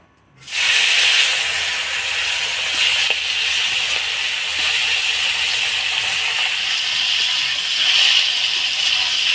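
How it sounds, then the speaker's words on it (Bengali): Taki fish coated in turmeric and salt go into hot oil in a wok, setting off a sudden loud, bright hiss that continues as a steady, close sizzle. "এবার মাছগুলা ভেজে নেব।"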